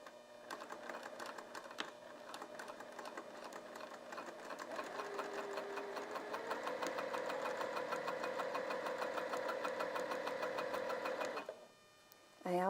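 A sewing machine runs back stitching in a steady, close mechanical whir that holds for several seconds and then stops, with no talk over it.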